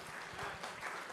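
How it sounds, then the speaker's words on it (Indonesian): Brief burst of congregation applause at a church revival service, a dense wash of clapping heard fairly distant and soft for about a second. "Tepuk tangan yang meriah bagi Tuhan."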